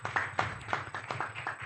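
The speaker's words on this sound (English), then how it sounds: "A round of applause to Doctor once again." Clapping at an employment law conference, a short burst of about seven distinct hand claps in a loose rhythm, close and fairly loud, with no voices.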